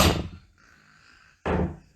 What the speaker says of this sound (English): Take my big hammer.